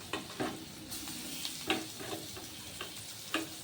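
Onion frying in hot oil for a home-style chicken stew, a soft steady sizzle punctuated by several light scraping taps of a spoon at irregular intervals.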